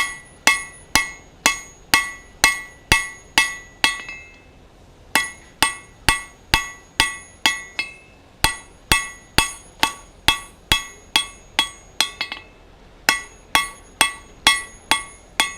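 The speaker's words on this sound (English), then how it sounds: "it can be useful to line the punch mark up with the edge of the anvil" Rhythmic hammer strikes on hot steel at an anvil while forging a taper, ringing out sharply, a steady series of blows with two short pauses between runs.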